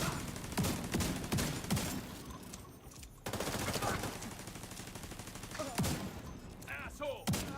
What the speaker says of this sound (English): shotguns in the Division are very, very, very nice